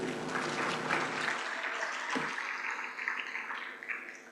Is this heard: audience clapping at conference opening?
yes